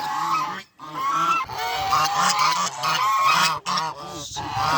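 Geese honking loudly and repeatedly, a busy flock calling over one another with brief pauses, close by.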